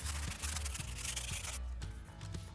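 Hand sanding close up: quick, rough rubbing strokes in a steady back-and-forth rhythm that is fairly quiet, heard alone without talking.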